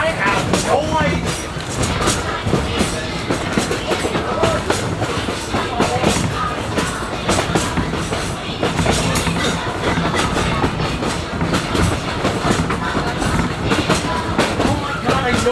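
Riding in the fireman's side car of a steam train on the Huckleberry Railroad: steady loud rumble and rhythmic clickety-clack of wheels on track, continuous throughout, with voices faintly heard underneath.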